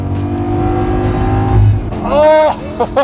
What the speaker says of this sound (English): it is not lazy whatsoever because it's a V10 and it pulls